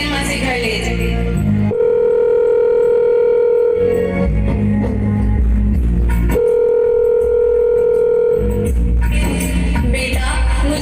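A telephone number is keyed in during a Hindi school annual-function skit, with a run of steady dialing tones laid over music, each held a second or two and separated by short gaps.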